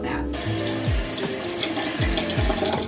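Warm tap water runs into a sink for washing the face, a continuous rushing stream with faint knocks and clatter mixed in, fairly close and with no talking.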